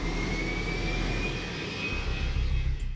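Airplane engines roar overhead, a loud continuous jet drone with a rising whine and heavy low rumble that swells toward the end.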